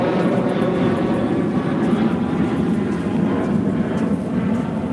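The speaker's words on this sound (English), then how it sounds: "here comes the plane" A plane passes overhead at a beach with a lifeguard station, giving a steady, loud broadband engine roar that fills the whole stretch without letup and with no talk over it.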